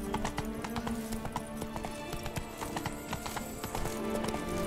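Rhythmic clip-clop of the horse Roach's hooves galloping in The Witcher 3 video game, a quick steady beat with occasional snorts and whinnies, close and loud.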